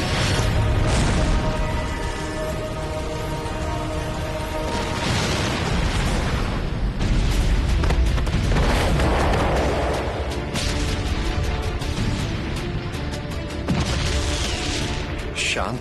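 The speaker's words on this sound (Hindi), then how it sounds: "शांत कैलाश पर यह विस्फोट की ध्वनि।" Loud booming blasts and crackling bursts roll through dense, chaotic noise, one heavy explosion after another over a continuous roar.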